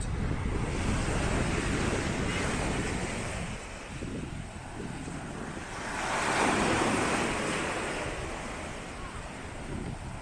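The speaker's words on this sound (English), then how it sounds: "So huge waves here since it's amihan season already." Heavy ocean surf on Lanas Beach, Carabao Island, Romblon, Philippines, with huge amihan-season waves rolling and crashing in repeated surges, wind buffeting the microphone throughout; no voices.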